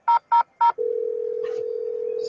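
Telephone dialed in a Nancy Drew video game: three crisp dialing tones in quick succession, then a steady ringing tone that holds to the end, clear and close with no talk.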